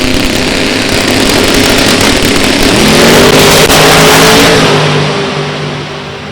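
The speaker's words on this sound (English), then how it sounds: "You can hear the turbocharger a-popping." A turbocharged drag racing car at an NHRA Division 3 event at Beech Bend roars loudly at close range, its engine note rising and then fading away, with popping from the turbocharger in a continuous blast of noise.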